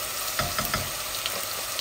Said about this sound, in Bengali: এই যে আমার পেঁয়াজগুলা ভাজা ভাজা হোক